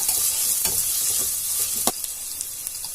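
Onions and curry leaves sautéing in a pan for samosa filling, a steady close sizzle with a few soft spoon scrapes and one sharper clatter near the middle.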